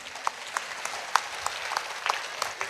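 Audience clapping at a school annual function, a sustained round of many hands from a crowd, moderately loud and steady with scattered sharper claps.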